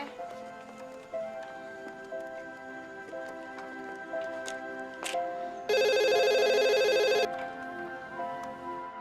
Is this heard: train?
no